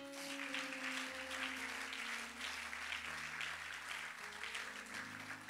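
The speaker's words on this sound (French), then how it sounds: "Acclame pour le Seigneur." A church congregation applauds and cheers in praise of the Lord, a steady wash of clapping with sustained voices and tones running beneath it throughout.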